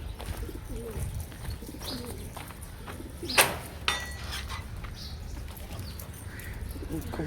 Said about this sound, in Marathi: एक कबूतर मित्रांनो आतमध्ये गेला वरून.